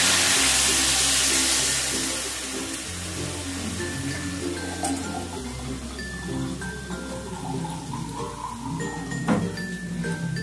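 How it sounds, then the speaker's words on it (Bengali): Water is poured into a pan of potato and cauliflower on a gas flame, a loud rushing splash for the first two seconds, then fading into a quieter, steady bubbling hiss with faint clinks. "এবার আমি জল দিয়ে দেবো।"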